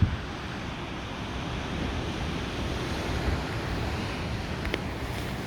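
Ocean surf rolling in at Foresters Beach, a steady broad wash of waves with wind buffeting the microphone, continuous and fairly close, with no voices.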